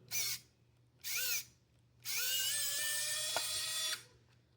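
A handheld electric screwdriver spins in reverse with its bit: two short whirring bursts, then a longer steady motor whine lasting about two seconds, close and clear.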